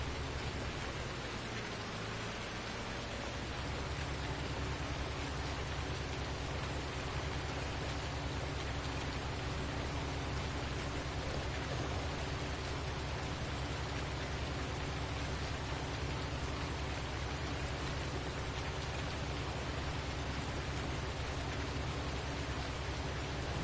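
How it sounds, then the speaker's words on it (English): Steady, heavy rain falls continuously outdoors in a dense, unbroken hiss that stays constant and loud throughout, with no voices or other sounds. "That rain just ain't let up."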